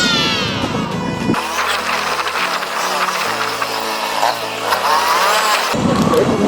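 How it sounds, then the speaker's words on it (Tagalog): A second-hand ER150N motorcycle with a starting fault, its engine idling close by in a steady, loud low chug that shifts in pitch between uneven bursts, with whining, rattling noise around it. "Itong motor kasi ni Paps is kuhan"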